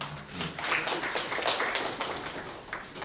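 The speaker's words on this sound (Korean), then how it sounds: "박수 부탁드리겠습니다." An audience at a 2016 architecture and urban forum applauds a presenter, a brief, even burst of many hands clapping close by, with no talking over it.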